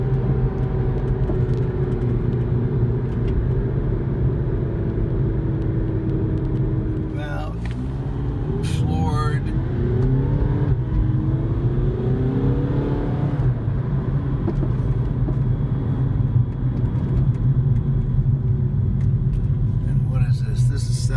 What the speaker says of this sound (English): Kind of fun to go through the gears manually. Downshift. Downshift.